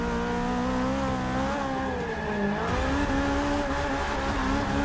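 A Toyota GT86 drifts in Forza 6 with its wheels spinning: the engine revs hard and wavers up and down, and tires squeal continuously beneath the snarl.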